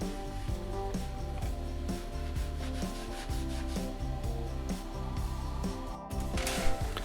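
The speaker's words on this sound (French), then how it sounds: "Un petit ponçage pour arrondir les baguettes et les bords." Sandpaper rubs over the wooden strips and edges of a model RC biplane fuselage in quick, soft, repeated strokes, with background music playing underneath.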